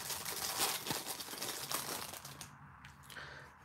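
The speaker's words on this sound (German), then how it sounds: "Ne, wir müssen das schon, sonst schneide ich es auf. Weil die Tüte brauchen wir ja nicht mehr." A plastic bag is crinkled and crumpled as it is cut open, dense close-up rustling with a few sharper crackles that fades after a couple of seconds.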